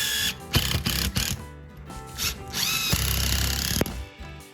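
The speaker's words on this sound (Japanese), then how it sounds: "ここにビスを打ち込んでいきます" A power driver sinks screws through thick 30 mm solid pine flooring into the joists beneath, with short whirring bursts and a longer sustained run, the motor pitch sliding as each screw bites, close and loud.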